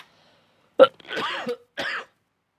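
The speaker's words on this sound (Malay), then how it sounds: "Aku batuk-batuk lah guys." A person coughs and clears their throat in a few short, close, distinct bursts separated by brief silences.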